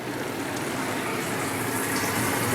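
A hose pipe runs water into a garden water butt, making a steady, close gushing rush that continues unbroken without any talk.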